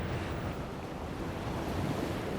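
Cold wind sweeps over Atlantic Ocean waves, a constant soft wash of surf and gusting air, fairly faint and unbroken, with no one speaking.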